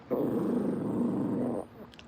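A dog lets out a single sustained, rumbling growl lasting over a second, close and fairly loud, then falls quiet.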